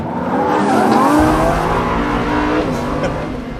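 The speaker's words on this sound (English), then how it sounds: "the engine's creamy smooth, but with a real jagged, ferocious edge as well." Lamborghini Huracan Evo engine running on a track, a loud, continuous smooth roar with a rasping edge and shifting pitch, close and steady throughout with no talk.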